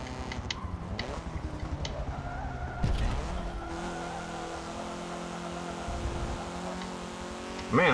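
A hot hatch race car in Forza Motorsport 7 career racing: a continuous engine drone shifting pitch as it accelerates and brakes, with tire squeal and skidding under hard cornering.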